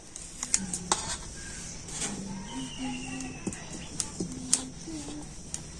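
A pan of thick semolina dough being lifted off a stove, with several light metallic clinks and scrapes of pot and utensil against a quiet kitchen background.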